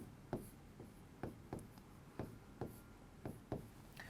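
Pen or chalk writing out given information for a Class 10 maths problem, a faint series of short taps and strokes in an uneven rhythm over quiet room noise.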